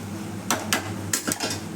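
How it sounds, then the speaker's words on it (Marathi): A lid goes onto a pan of capsicum cooking over a low gas flame, giving a few close metallic clanks and rattles spread over under two seconds as it settles. "आता बारीक गॅसवर झाकण टाकून ठेवते"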